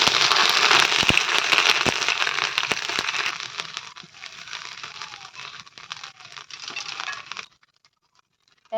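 Ginger and spices sizzle in hot frying oil while being stirred, a dense steady crackle for several seconds with sharp pops, thinning out toward the end before cutting off.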